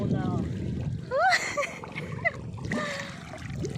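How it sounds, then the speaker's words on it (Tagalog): A motorboat at Paguriran beach hums low in the distance beneath splashing water, while people chat and call out nearby, their voices often louder than the engine. "may motor na dun. Motorboat."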